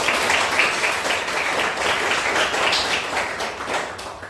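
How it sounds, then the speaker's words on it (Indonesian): Classroom applause from a group of students, steady dense clapping held at an even level throughout, fairly close, with a little voice mixed in. "tepuk tangan untuk Mas Fahri."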